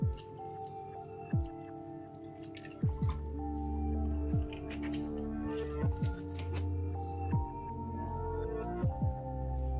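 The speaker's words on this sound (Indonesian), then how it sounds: "saya tuangkan air." Water is poured into a homemade ultrasonic cleaner built from scrap parts: quiet splashing and dripping with repeated small drops and squishy pops over a faint background hum.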